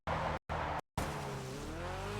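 A car reverse drifting in a GTA video game: a loud, steady engine roar with squealing tires, briefly cut to silence twice, then a sustained skid that rises slowly in pitch.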